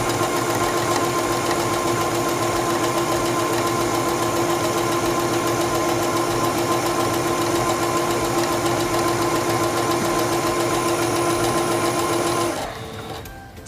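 A Singer 7258 computerized sewing machine stitches fabric in a loud, fast, even mechanical whir with a steady rhythmic knocking, running continuously before stopping abruptly near the end.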